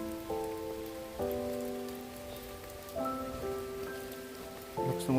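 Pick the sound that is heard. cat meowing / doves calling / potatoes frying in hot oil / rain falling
rain falling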